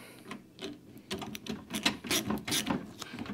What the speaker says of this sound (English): by using a socket, you are guaranteeing you're doing yourself a lot tighter than with a screwdriver